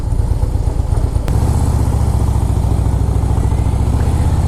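Harley-Davidson Fat Boy S motorcycle engine running steadily and loud and close, with a sharp click part way through before the rumble settles into an even pulse.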